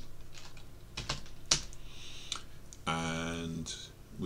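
Keys clack on a computer keyboard as a command is entered, a handful of sharp close taps with a brief spoken voice near the end.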